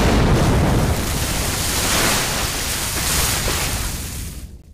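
A film explosion kills a shark in Jaws 2, a loud, dense blast of roaring noise that holds for several seconds before tapering off at the end.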